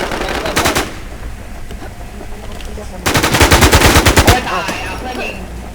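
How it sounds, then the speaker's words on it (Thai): Automatic gunfire in the video game Infestation: a short rapid burst, a pause, then a longer loud sustained burst of rattling shots, close and dominant. "มันยิงมันยิง"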